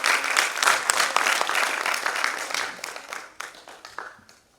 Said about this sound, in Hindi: कृपया निदेशक महोदय के लिए आप तालियों से उनका स्वागत करें